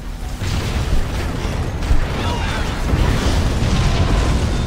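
Explosions and weapons fire from Halo Wars as all units fire at once, a dense continuous barrage of booms and bursts that stays loud throughout.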